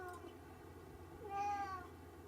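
A house cat gives a single drawn-out meow partway through, faint over a steady low background hum indoors.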